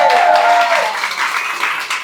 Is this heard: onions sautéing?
no